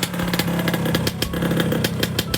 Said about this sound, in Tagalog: Sound check tayo ng pipe. 4N yung pipe niya, no?